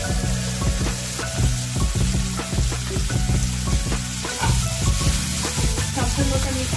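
Green chillies and tomato frying with bhola fish in a pan, a loud continuous sizzle with rhythmic stirring and scraping strokes, heard close under steady background music.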